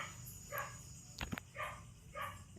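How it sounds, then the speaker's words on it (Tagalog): A dog barks at night in a quiet yard, three short separate barks spaced about a second apart and moderately distant, with a steady insect chirr and a brief knock sound between them. "pasensya na po kayo kung medyo maingay yung aso"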